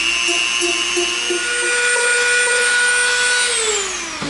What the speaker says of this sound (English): we'll use our Dremel to take this off